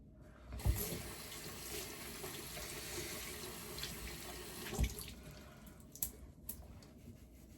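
Tap water runs steadily into a sink during a nighttime face-washing routine, a soft continuous splash with a few louder splashes and knocks as the face is rinsed.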